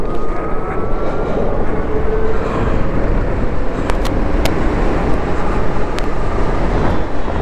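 Orxa Mantis electric motorcycle accelerating on the road, a loud steady wind and tyre rush with a faint rising motor whine, constant throughout with no talk.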